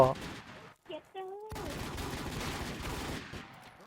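Rapid gunfire in the video game Retrospect, a dense rattling volley after a brief pause with short tonal game effects, under occasional talk.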